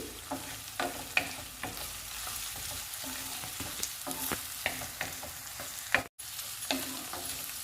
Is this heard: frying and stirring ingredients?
yes